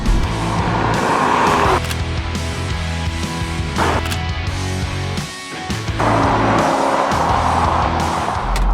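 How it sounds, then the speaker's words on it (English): A Ford Mustang and a Chevy Corvette launch in a drag race, engines roaring loud and close with tires spinning and squealing off the line. A brief dip follows, then the roar of hard acceleration continues without any talking. "I'll try to get a little less wheel spin off the launch, and we'll see if I can close that gap"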